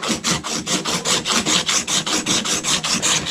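Abrasive cloth scrubs back and forth inside brass plumbing fittings, a loud, close, rhythmic rasping of about four strokes per second that keeps an even pace throughout, with no voices.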